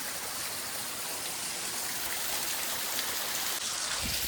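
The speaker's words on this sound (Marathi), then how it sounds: "हे आहे आमचं छोटंसं वॉटरफॉल" Mountain water pours over a small waterfall in a constant, dense rush, close and unbroken, with no voices.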